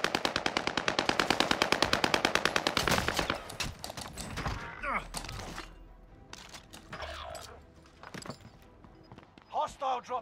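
Automatic weapon fire in Call of Duty on the Rebirth Island Fortune's Keep map, a rapid rhythmic burst of shots for the first few seconds followed by scattered impacts and game effects, with players talking over it.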